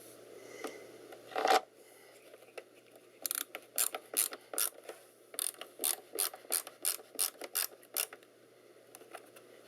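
Screws are driven into a Compaq SLT/286 laptop, producing a rapid series of sharp ratcheting clicks in short regular bursts, close and distinct with no talk.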